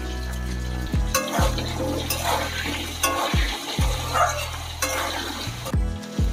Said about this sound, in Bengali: এবার পটলগুলোকে ভেজে নেব।